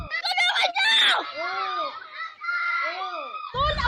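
Shrill screams calling for help for a stabbing victim during a street attack: loud, close, strained wailing cries rising and falling in several drawn-out bursts with short gaps.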